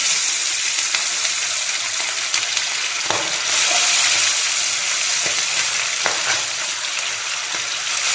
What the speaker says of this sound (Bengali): এক এক করে এবার পাবদা মাছগুলোকে আমি সর্ষের তেলের মধ্যে ছেড়ে দেবো